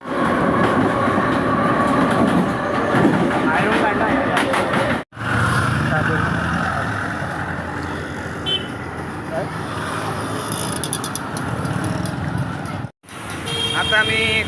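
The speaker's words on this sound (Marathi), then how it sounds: "आता आम्ही ट्रेनमध्ये बसलो आहे." Inside a moving fast commuter train, a loud continuous rumble of wheels and carriage noise with clickety-clack rhythm, briefly cut twice, while people talk in the background.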